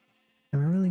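A single sheep in the video game Minecraft lets out one loud, close bleat that cuts in abruptly after near silence and holds steady to the end.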